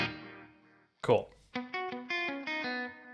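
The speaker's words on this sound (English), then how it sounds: "That's just the delay. That's just the reverb, and then both." Electric guitar played through a Beetronics Octahive pedal with delay and reverb: a sustained chord fades out, then a run of separate ringing notes sounds up close, with a brief spoken word between them.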